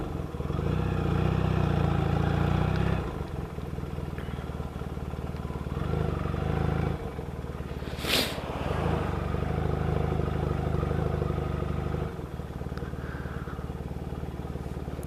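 Yamaha XS650 motorcycle engine while riding, a loud, steady, close mid-pitched drone with small shifts in load and one brief sharp rushing burst partway through, without talk.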